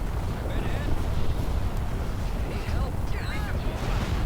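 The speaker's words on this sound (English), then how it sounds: "And the alliances are now starting to open fire with their missiles." Missiles and ion torpedoes firing in the space strategy game Empire at War, a steady roaring rumble of weapons fire and explosions with faint whooshing sweeps layered through it.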